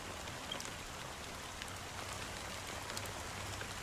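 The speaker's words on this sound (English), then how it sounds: "Amidst the fine drizzle of the black rain" Steady fine rain falling in Penacony in the game Honkai: Star Rail, a soft continuous hiss of drizzle with faint scattered drop ticks, quiet and even.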